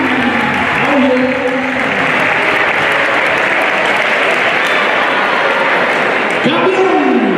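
Applause from an audience at a sports awards night greets a youth football team, loud and close throughout, with background voices and music tones rising underneath while the clapping continues.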